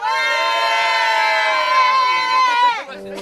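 A group of people shouting together on request, a loud sustained crowd yell held for about three seconds before cutting off abruptly, with a faint tone after.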